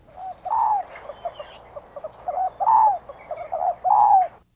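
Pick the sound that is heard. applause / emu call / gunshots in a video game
emu call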